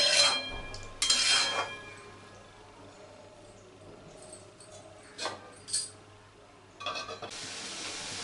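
Potato and broccoli curry being stirred in a pan, with a few scraping clatters of a spoon against the metal and a soft sizzle between them, mostly quiet in a kitchen.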